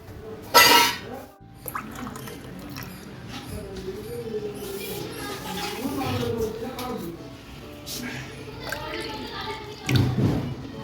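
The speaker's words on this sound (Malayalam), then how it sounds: "ഇതിലേക്ക് ഒരു കുറച്ച് കൂടെ വെള്ളം ഒഴിച്ച് കൊടുക്കാം" Water is poured into a pan in splashing bursts, with a voice talking over it and some clinking of kitchenware.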